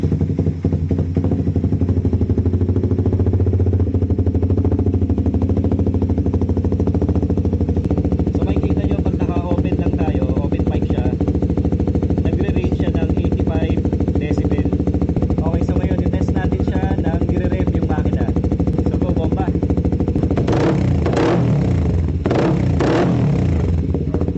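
A Suzuki GSX 150 motorcycle with an open Vmax muffler and its dB killer removed runs loud and close, holding a raspy idle before sharp revving bursts near the end.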